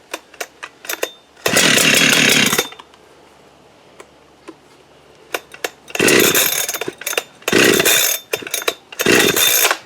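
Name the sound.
Holzfforma 372 chainsaw starting and running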